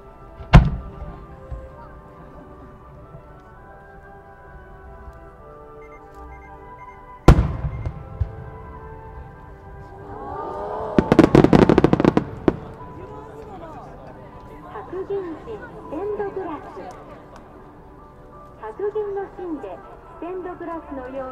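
Multi-burst ring fireworks at a display in Tsuruga, Japan, burst with sharp booms followed by crackling multiple pops, echoing away; a person talks between the explosions.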